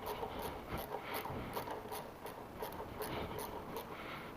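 Motorcycle brake caliper bolts tightened during a brake pad change, with a quick, regular ratchet clicking close by and steady throughout.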